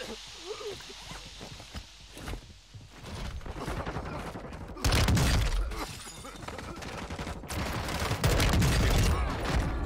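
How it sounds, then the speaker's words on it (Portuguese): Gunfire in Warzone, rapid bursts and scattered shots mixed with in-game clatter and footsteps, loud under excited players' voices shouting over them. "Estão atirando em mim!"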